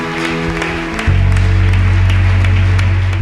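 A church congregation claps in steady applause throughout, joined after the first second by loud sustained music that swells under the clapping.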